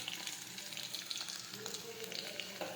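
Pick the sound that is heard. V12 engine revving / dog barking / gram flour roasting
gram flour roasting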